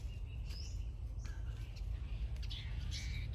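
A caged songbird outdoors gives several short, high chirps and squeaky calls spread across a few seconds over a steady low background hum, fairly faint and without clear talking.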